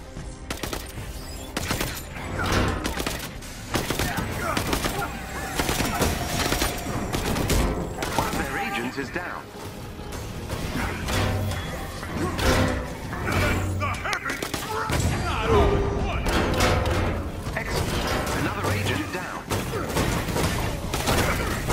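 Rapid bursts of turret gunfire in the video game Marvel's Avengers, sustained and loud across the whole stretch, with heavy thumps mixed into the continuous barrage.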